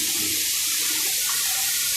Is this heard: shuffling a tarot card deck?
no